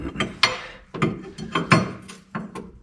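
A big wrench works a bolt on a New Holland skid steer, giving repeated metallic ratcheting clicks and clanks in uneven bursts, close up and with no talking.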